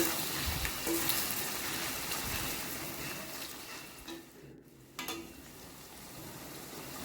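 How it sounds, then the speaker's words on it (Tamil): Sliced onions fry in hot oil toward golden brown for a mutton keema biryani, giving a loud, steady, close sizzle with stirring and a brief dip midway. "அந்தளவுக்கு நல்லா ஃப்ரை பண்ணணும் ஆனியனை"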